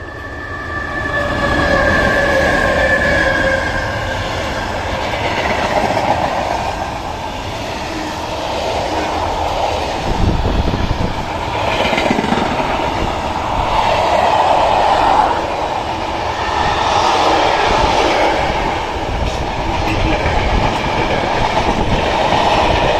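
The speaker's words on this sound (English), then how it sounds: "now let's take a look at a freight train" A long freight train rumbles past close by in Belgium, wheels clattering rhythmically over the rails with occasional metallic squeals, steady and loud throughout.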